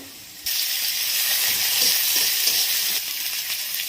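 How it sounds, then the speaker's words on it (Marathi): Onion and ginger-garlic paste frying in a pan for dahi bhindi, a loud, steady close sizzle that jumps up abruptly as the paste goes in and eases off slightly near the end, with no voices. "आता कांदा लाल झालेला आहे अद्रक लसणाची पेस्ट टाकते"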